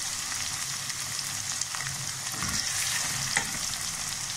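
Ginger, garlic and green chilli paste fries with onion in a pan for Lahori haleem, giving a steady, close, even sizzle and crackle throughout with no talking.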